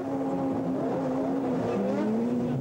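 A damaged BMW race car with a broken front right driveshaft, running on three driven wheels at the Chamonix 24-hour ice race in 1997, drones steadily with a sustained engine note that shifts pitch slightly, heard fairly close and without talk.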